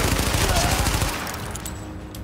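Rapid automatic gunfire crackles loud and dense for about a second in Tom Clancy's The Division, then cuts off into quieter game ambience with a few faint clicks.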